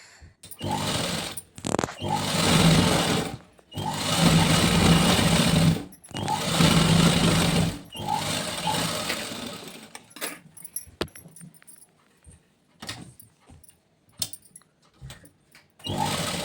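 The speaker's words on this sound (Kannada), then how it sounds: "ಫಿಟ್ಟಿಂಗ್ ಎಲ್ಲ ಮಾಡಿಕೊಡಿ ಡ್ರೆಸ್ನ ಅಂತ ಅದನ್ನೆಲ್ಲ ಸ್ಟಿಚ್ ಮಾಡ್ತಾಯಿದ್ದೀನಿ" A sewing machine stitching a dress runs in loud, steady bursts of rapid mechanical whirring separated by brief pauses, followed by quieter clicks and handling noises near the end.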